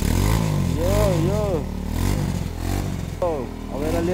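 A motorcycle engine, fitted with a silencer that isn't a Royal Enfield Bullet's, rumbles and revs in rising and falling surges close by while someone talks over it.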